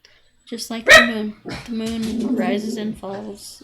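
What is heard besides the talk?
dogs barking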